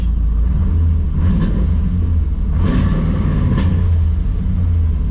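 A car with no working clutch idles with a heavy low rumble as it is put in gear and starts to pull, the engine loud and close and steady, with a couple of brief higher swells.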